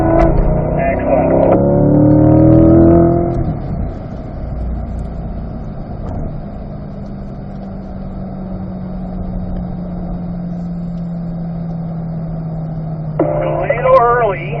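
Chevrolet C8 Corvette accelerating on the Spring Mountain Raceway track, its engine droning loudly, then settling into a steady lower hum with a rising tone near the end, heard under an instructor's talk.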